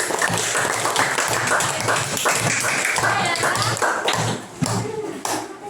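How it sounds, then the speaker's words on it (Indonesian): Primary school students clap in a fifth-grade classroom after a group presentation: a dense, uneven patter of small hands, fairly close, with a few sharper taps and thumps. Children's voices murmur through it. "Kasih tepuk tangan"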